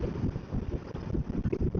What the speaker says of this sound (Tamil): காற்று வேற ஹெவி அடிக்குது.